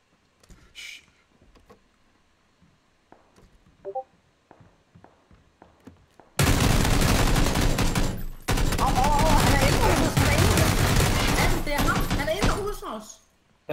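Gunfire bursts out loud and dense in the video game PlayerUnknown's Battlegrounds, sustained automatic shooting that goes briefly silent and then resumes. Sparse clicks and steps come before it.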